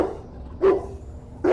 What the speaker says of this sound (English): This real deep bark.